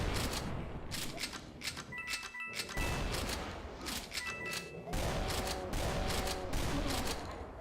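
Repeated bursts of energy-weapon fire from the Energy Blaster in Doom: The Golden Souls 2, a loud sustained volley of crackling blasts and impacts over game effects, without speech.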